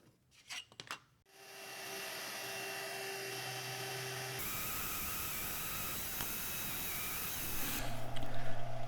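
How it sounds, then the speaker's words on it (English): Belt sander shaping a wooden handle for a knife sharpening strop: a few taps, then the motor spins up into a steady whirring drone, with the pitch and grit of the abrasion shifting as the wood is pressed on. "And we're back to the belt sander to clean things up."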